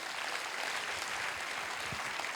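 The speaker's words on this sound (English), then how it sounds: "give a big round of applause for her" An audience at a live talk gives sustained applause, a dense, steady wash of clapping that stays even and fairly distant throughout, with no voices over it.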